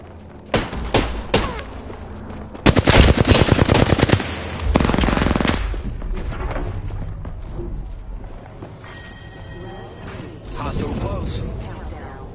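Bursts of automatic gunfire and single shots in a military video game, loud rapid volleys with thuds and mechanical clicks, mixed with a player's voice calling out.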